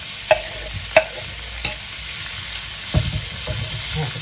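Apples frying in 25 grams of butter in a pan for an apple cake filling: a steady close sizzle, broken by a few sharp clicks of a utensil against the pan, with no talking.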